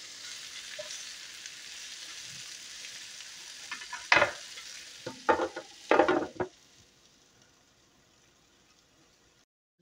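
Bitter gourd (karela) frying in a pan, a low steady sizzle punctuated by a few loud scraping stirs in the middle, then fading almost to silence near the end.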